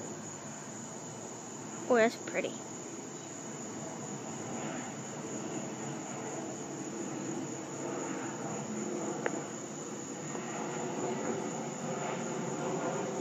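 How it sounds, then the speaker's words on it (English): An airplane passing overhead at sunset: a faint, distant, continuous engine drone under steady insect chirping, with a brief voice and a couple of short nearby knocks. "There's an airplane."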